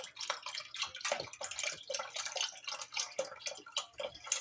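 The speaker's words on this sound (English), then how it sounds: "Now we'll just add the rest of the chicken broth" Chicken broth poured into a soup pot on the stove, a close splashing, gurgling stream with fluttering bursts throughout, fairly quiet and without talk.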